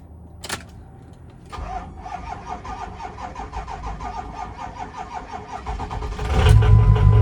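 A click, then a 6.0 diesel truck engine with a weak battery, after sitting two weeks, cranks with a rapid rhythmic churning for several seconds before catching and roaring louder at the end.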